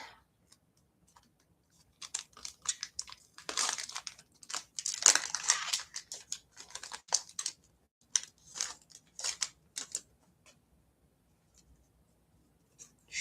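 Yu-Gi-Oh! trading cards being shuffled by hand, a string of soft, irregular papery riffles and flicks coming in short bursts with quiet pauses between them, close and fairly faint.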